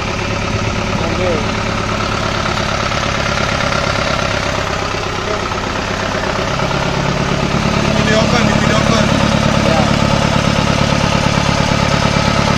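A homemade rice milling machine driven by a Toyota Dyna engine runs continuously nearby, a steady droning idle that grows heavier and louder partway through while someone talks over it.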